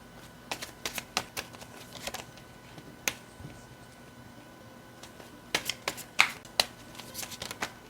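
Tarot cards are shuffled and handled in bursts of soft riffling and crisp taps, with a quiet gap in the middle and a low steady hum in the background.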